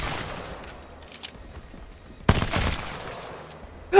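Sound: gunfire in Apex Legends video game

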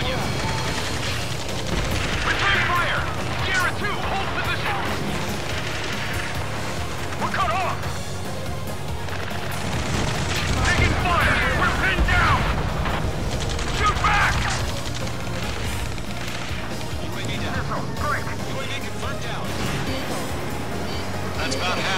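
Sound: gunfire and explosions in Ace Combat 7 video game

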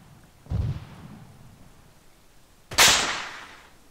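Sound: artillery fire on the base in Arma 3 video game

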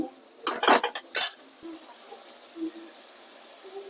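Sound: egg being sautéed and stirred in a pan

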